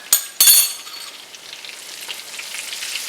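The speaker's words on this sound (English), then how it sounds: "our butter is nice and sizzling" Minced garlic hits sizzling browned butter in a pan for sage pasta, starting with two sharp hisses and then settling into a steady, bright crackle of frying.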